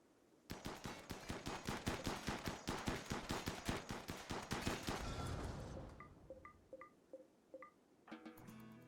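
Gunfire in the RimWorld video game rings out in a long fast automatic burst of sharp repeated shots, followed by a series of short synthetic tonal beeps.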